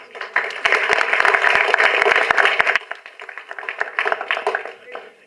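Loud, dense applause from an audience at a movie audio launch on stage, a sustained burst of clapping for about two and a half seconds that drops to scattered, softer claps.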